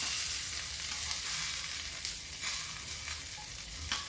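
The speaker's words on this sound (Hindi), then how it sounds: "अब डालते हैं इसमें प्याज" Onion goes into hot oil with coriander, Kashmiri red chilli, garam masala and turmeric for black masoor dal with spinach, sizzling steadily and close up, with occasional scrapes and knocks of stirring.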